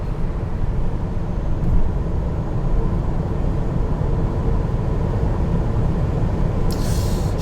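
A 2022 Tesla Model 3 electric car accelerates gently at high speed, a steady broadband road and wind roar with no engine note, continuous and fairly loud, with a brief hiss near the end.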